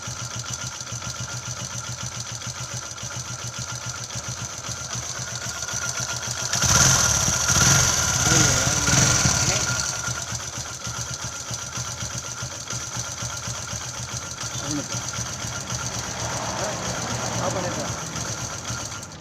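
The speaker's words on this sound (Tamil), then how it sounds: "இப்போ ஸ்டார்ட் பண்ணுறேன். எந்த சவுண்டு இல்லை பாருங்கள்." A Hero Honda motorcycle engine with a newly replaced timing chain starts with a brief louder surge, then settles into a steady, even idle close by, with someone talking over it.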